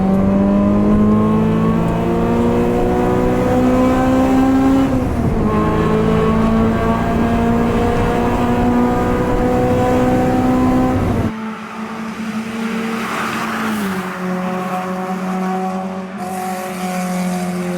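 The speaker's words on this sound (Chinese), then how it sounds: "VTEC 开启的那声高亢尖叫，呈现在你面前的是当年地表声功力最强的量产引擎" A Honda S2000 engine screams at high RPM with VTEC engaged, a loud sustained rising wail with a brief dip and drop between gear changes, close and unbroken.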